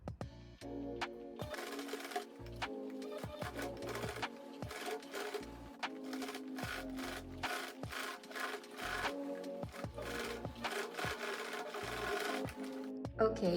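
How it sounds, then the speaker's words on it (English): A sewing machine stitching a bustier seam beside the cup, running in steady rhythmic bursts with brief stops, close and fairly quiet. "So stitch 1 centimeter from the seam towards the cup."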